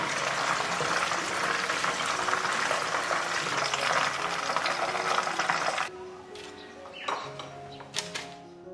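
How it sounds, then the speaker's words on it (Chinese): Chicken wings deep-frying in oil over low heat, a steady dense crackle and bubble at close range that runs for about six seconds and then drops away, leaving quieter scattered pops and small clinks. "鸡翅放下去之后呢，保持小火炸，炸到2面金黄就可以了"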